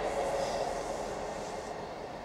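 A passing train rumbles steadily with a broad, continuous roar that fills the whole stretch, close and fairly loud.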